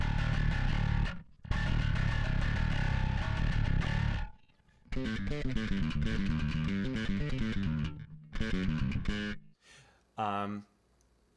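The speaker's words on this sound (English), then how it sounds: "it's got that kind of fizzy sound of a distortion pedal just by itself" A distorted electric bass through a Line 6 Helix plays riffs with a fizzy, gritty distortion-pedal tone, stopping and starting in bursts with short silences between phrases.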